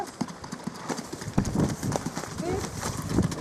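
Competition horses' hooves clip-clopping in an Icelandic riding arena at Flugumyri, a quick steady rhythm of hoofbeats close by, under people talking.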